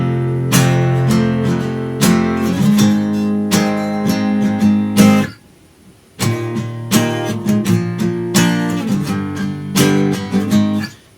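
An electric guitar plays a riff in punchy, rhythmic chord stabs, pausing briefly midway before resuming, with no talk.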